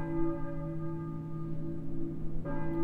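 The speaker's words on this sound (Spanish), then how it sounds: "Escucho una campana." A church bell rings steadily in the Silent Hill game for PlayStation 1, its sustained tone humming on throughout with a fresh stroke near the end.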